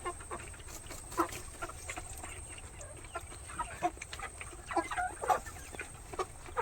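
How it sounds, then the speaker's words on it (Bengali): Chickens cluck softly in scattered short calls against a quiet, low background hum, fairly faint and a little distant, with no talking. "এই দেখো মুরগিগুলো"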